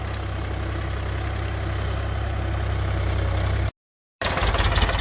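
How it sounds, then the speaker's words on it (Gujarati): A steady, low engine rumbles continuously at idle, close by, with a brief dropout of silence near the end before the chugging resumes. "તમે જુઓ ટ્રેક્ટર હાકે છે અત્યારે"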